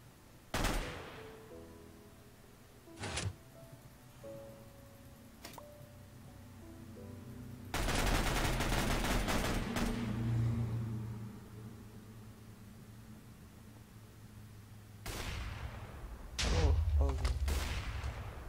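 SMG fire in a first-person shooter game comes in several bursts: a short crack, then a sustained rattling volley, and later more bursts, all loud against a quiet background.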